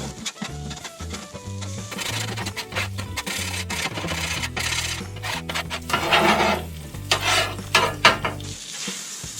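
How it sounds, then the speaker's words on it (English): A metal spatula scrapes grouper fish across a hot Blackstone griddle. Rhythmic, close scraping strokes ride over a steady sizzle, building to louder, harsher scrapes near the end, with no talk. "I'm going to go ahead and start scraping this now"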